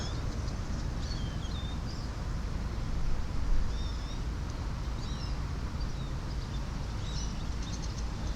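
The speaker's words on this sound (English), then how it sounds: "I hear bird voices." Birds singing among giant trees in a park on a hot sunny day, short high chirps and whistles scattered across the scene, faint and distant over a steady airy outdoor background.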